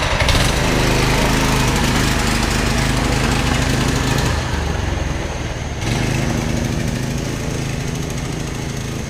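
Small go-kart engine running steadily and loudly throughout a ride, a continuous buzzing drone with brief dips in pitch and load as the kart slows and picks up again, no talking.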